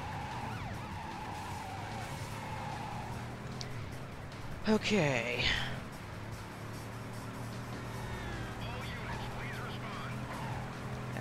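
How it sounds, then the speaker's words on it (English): A Rolls Royce in the video game Driver 3 skids along with wailing police sirens close behind, a tire screech rising midway through the steady engine and traffic noise, with a voice speaking briefly. "we're driving a Rolls Royce, trying to escape from the police"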